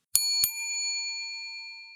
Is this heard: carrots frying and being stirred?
no